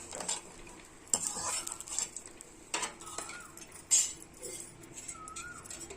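Fried food, browned until red, is lifted from a pan with a metal spoon onto a plate for a neem flower bhaji, giving faint scraping, stirring and a few clinks over a soft sizzle, with no talking.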